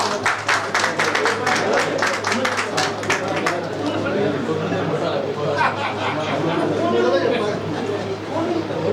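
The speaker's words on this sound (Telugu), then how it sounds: "చప్పట్లు సరే" An audience claps at the opening of a rehabilitation center, with a dense burst of applause at first that thins into scattered claps amid crowd chatter and voices.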